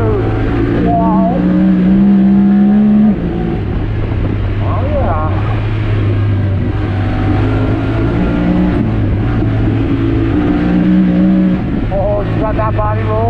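A Honda Talon X side-by-side driving off-road, its engine roaring loud and close with steady drone and pitch shifts as it accelerates and eases off, while a rider talks over it.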